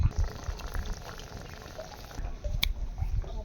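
Vaseti wild greens simmer in a covered pot with a splash of water and oil, giving a soft, steady bubbling patter with faint crackles, close and fairly quiet, with no talking.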